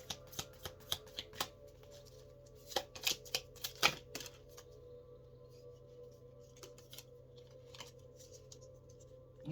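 Soft, close handling of a stiff, hard-to-shuffle card deck: a string of sharp little clicks and snaps, clustered early and then thinning out over a quiet background.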